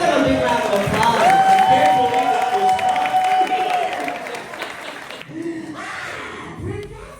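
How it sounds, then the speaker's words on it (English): Crowd at a comic convention cheering and clapping after a skit, loud mixed whoops and applause with a sustained shout over it, then fading into quieter crowd noise and talk near the end. "give them a big round of applause"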